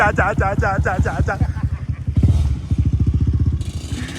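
A motorcycle engine revs in rough, rapid pulses close by, with clattering bursts and a throttle blip near the end; voices can be heard briefly at the start.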